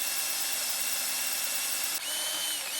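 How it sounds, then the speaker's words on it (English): A power drill with a 3/8 bit bores through a MetalCloak track bar bracket on a vehicle, a loud, continuous high-pitched grinding whine that shifts slightly in tone partway through. "I'm going to go ahead and just try to blast through with my 3/8."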